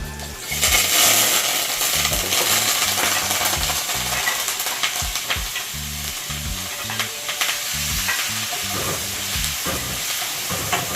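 Seasoning sautéing in hot curry oil in a pot for curry lobster, a loud continuous sizzle and hiss with intermittent low bumps from the pot, no voices.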